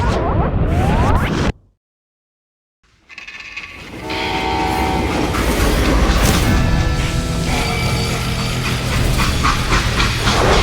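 A freight train in the game Call of Juarez: Gunslinger, a loud rumbling roll with metallic clanks and tonal screeching, cut by a sudden two-second silence before the heavy mechanical din returns and holds steady.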